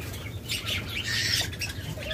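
Diamond doves call in a caged bird setting, a soft low repeating coo close by, with brighter chirps and rustling from other birds over the top.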